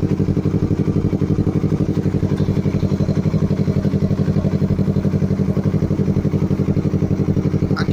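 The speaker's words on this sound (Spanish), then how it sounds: "Aquí pueden ver el tubo de escape y se le hizo lo que es línea en acero inoxidable. Vamos a escuchar." A Yamaha R3 motorcycle with a stainless steel exhaust line runs at a steady idle, its loud, even pulsing exhaust beat continuing throughout with no talk.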